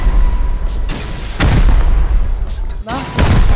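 Rockets launch and explode in the online game Rust, with several loud booming blasts and heavy rumbles that overlap one another, while players talk.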